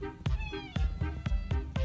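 An old wild cat meows hoarsely in a series of five or six raspy, rising calls at a quick, even pace, close by and loud, each one sharply separated from the next.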